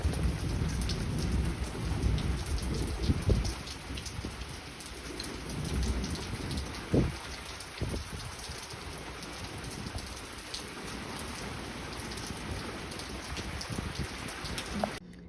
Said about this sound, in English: It doesn't rain in Arizona very often. It's fun when it does.